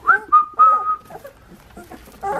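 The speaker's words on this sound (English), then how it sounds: "I'm whistling like that, and when I'm interacting with them, I'm whistling like that" Several short, bright whistles from a person calling puppies, some rising and some held, repeated in quick succession, followed by quieter rustling and movement noise.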